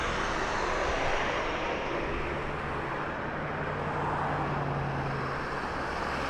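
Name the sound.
airplane at Las Vegas Harry Reid airport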